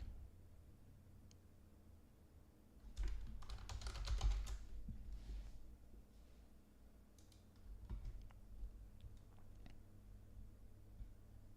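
Quiet, close computer-keyboard typing as a stock ticker symbol is entered: a short burst of rapid key clicks, then a few scattered taps in a near-silent room.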